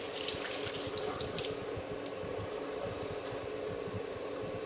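Butter being rinsed under a running kitchen tap: a steady, continuous gush of water splashing into a sink, close and unbroken throughout, with no voices.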